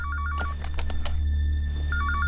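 A telephone rings in a film scene, with repeated electronic ring bursts at the start and again near the end over a steady low hum.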